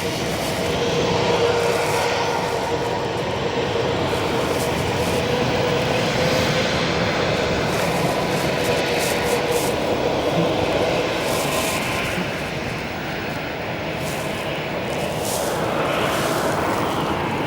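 A jet airliner rumbles overhead at O'Hare Airport, a broad continuous roar that stays loud and steady throughout, heard from outdoors at a distance.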